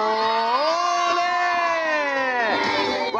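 A crowd in the stands cheers and shouts at a football cup presentation, a loud sustained chorus of voices swelling and falling, with a few voices rising in pitch near the end.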